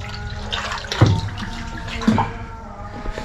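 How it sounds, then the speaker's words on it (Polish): Water pours and splashes close up onto plant soil in short uneven gushes, with a couple of louder splashes and gurgles. "a teraz tradycyjny proces dolewania wody"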